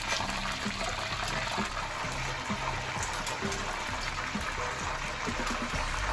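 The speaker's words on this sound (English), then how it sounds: "I feel like they come to like this crescendo of bubbling." Gluten-free fish frying in hot oil, a steady dense sizzle and bubbling that holds loud and continuous throughout, up close with no talking.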